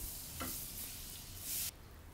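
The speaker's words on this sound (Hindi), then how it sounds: "टू टेबलस्पून बटर को आपने मेल्ट करना है" Butter, about two tablespoons, melts and sizzles in a pan for loaded cheesy fries, a steady soft hiss with a brief scrape and a short louder burst of sizzle just before it quiets.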